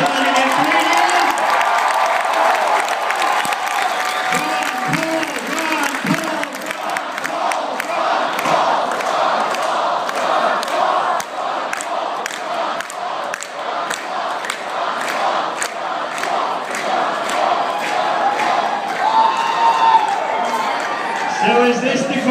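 A political rally crowd at a university cheers, whoops and applauds in loud sustained waves, with bursts of clapping and shouts filling the hall while a speaker's amplified voice rises intermittently through the noise.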